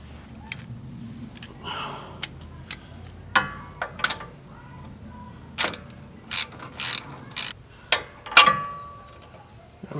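A hand ratchet tightens the front shock bolt on a 2005 Dodge 2500 truck, giving bursts of close, crisp clicking strokes with short pauses between them.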